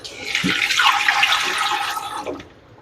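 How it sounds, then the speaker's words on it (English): Water poured steadily into a Presto electric pressure canner pot up to the fill line, a continuous splashing gush that tapers off at the end, close and loud. "we need to pour 3 quarts of water into the pot up to the fill line"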